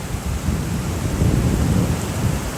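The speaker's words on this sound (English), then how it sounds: "Oh, got thunder rolling." Thunder rolls as a continuous low rumble through a heavy rainstorm at an outdoor horse-training session, with steady rain and wind noise filling the background at a fairly loud, even level and no talk.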